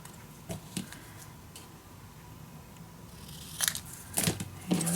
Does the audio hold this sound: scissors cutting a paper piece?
yes